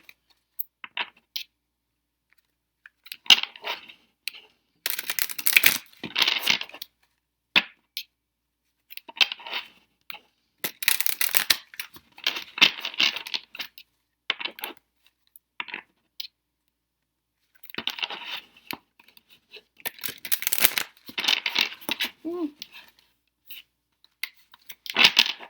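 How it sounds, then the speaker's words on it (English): Stiff tarot cards from the Fairy Tarot and Gilded Tarot decks are shuffled in short bursts of riffling, rubbing and snapping, separated by silent pauses, close and fairly crisp with no talking. "I'm just going to shuffle them."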